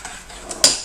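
Salt and spices for biltong being mixed in a bowl: soft scraping, then one sharp clink of a utensil against the dish. The whole sound is brief and close.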